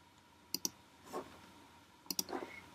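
Computer mouse clicking while working in Adobe Illustrator, two quick pairs of crisp clicks separated by a pause, faint soft handling noises between.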